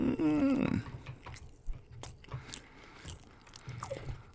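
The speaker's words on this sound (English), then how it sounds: "you eat all the crackers with some cheese" Someone eats dry crackers with cheese, with soft crunchy bites and chewing close to the mic after a brief loud vocal burst at the start.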